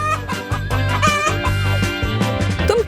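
Chicken clucking and calling close by, a busy run of repeated throaty clucks and squawks, loud and alone with no voices over it.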